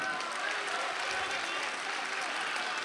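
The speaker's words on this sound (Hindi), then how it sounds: "एक मर्तबा सारे लोग मिलकर इस्तकबाल में तालियां बजा" Steady, dense clapping from an audience at an Urdu poetry mushaira in Dubai, sustained at an even level throughout with no breaks, everyone applauding together.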